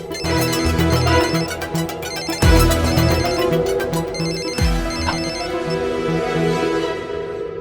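A telephone ringtone rings loud and steady, repeating its tonal pattern with a few abrupt jolts, and no one speaks over it.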